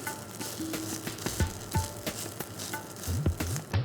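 A moong chilla (pesarattu) sizzles in a pan as it is flipped, with a steady frying hiss broken by short scraping and spatula knocks, close and moderately loud.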